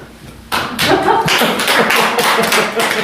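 Audience applause at a motivational speech lecture, a loud burst of clapping that starts abruptly and continues steadily from a large crowd in a hall.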